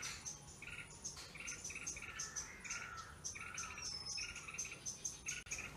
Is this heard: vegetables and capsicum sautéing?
no